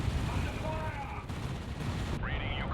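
Bolter fire and explosions in Dawn of War 2, a dense continuous rumble of shots and blasts beneath someone talking over it.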